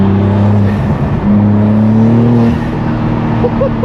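A BMW G82 M4 fitted with a loud aftermarket exhaust revs hard, its engine note climbing and holding in a strong, close, continuous roar, with intake noise audible and no talking.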